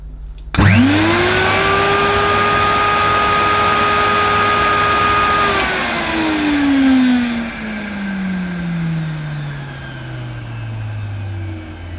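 A Hoover AquaPlus 1700 wet and dry vacuum cleaner switches on with a sudden surge into a loud, steady motor whine, then its pitch falls gradually as it winds down.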